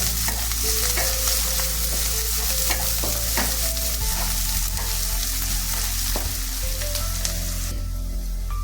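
Sliced onions fry hard in a pan while being stirred, a loud, dense, continuous sizzle with steady scraping of the spoon and a low hum beneath, close up and without any voices.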